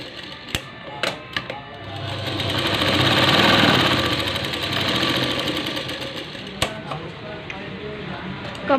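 Sewing machine stitching a tuck on a blouse, close mechanical whirring that swells and fades over several seconds, with sharp clicks before and after the run.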